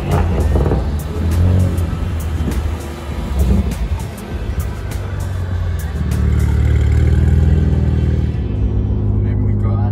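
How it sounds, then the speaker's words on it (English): A Genesis G80 engine revs hard with a deep, loud rumble and rising roar as it burns rubber up close in Cape Town; faint voices sit under the noise. "burning rubber in a G80"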